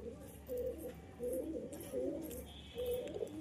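A male pigeon, a racing bird, coos softly in a few low, rolling phrases, close but quiet, repeating every second or so.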